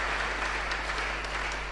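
A church congregation applauding during a worship service, a dense, continuous wash of many hands clapping at steady volume, fairly close and filling the room.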